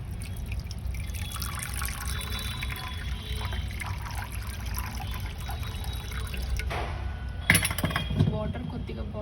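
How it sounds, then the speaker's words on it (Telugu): Water poured into a pan on a stove while making instant tomato pachadi, a soft steady trickle over a low hum, ending in a brief clink and louder splash near the end. "స్టవ్ ఆన్ చేసుకొని ఒక పాన్ పెట్టి దాంట్లో వాటర్ యాడ్ చేసుకోండి."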